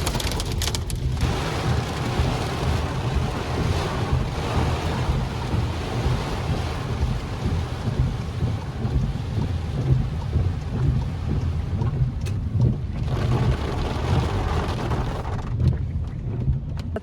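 A thunderstorm with hail pounds a campsite, a dense, continuous roar of hail and rain with heavy low rumbling and gusty wind noise throughout.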